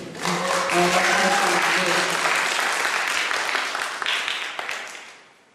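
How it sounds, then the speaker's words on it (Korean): An audience applauds at a Korean church mission training session: sustained, fairly loud clapping from a group that starts at once, holds steady and then tapers off near the end. "잘했다고 생각하면 박수 크게."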